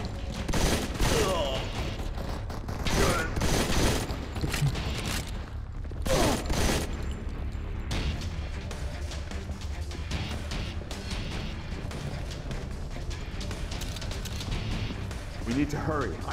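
Bursts of gunfire from the Modern Combat 4 video game, volleys cracking in several clustered waves over a steady low battlefield rumble, with in-game voices calling out between shots.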